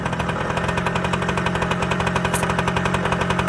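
Kawasaki KE100 two-stroke motorcycle engine running steadily on its first start since 2020, a loud, continuous rapid chugging close by with no talk.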